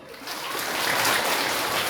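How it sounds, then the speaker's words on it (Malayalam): An audience at a school event in Karunagappally claps together in a steady, loud wash of applause that fills the room for the whole moment. "ഒന്നുകൂടെ കൈയടിക്ക്."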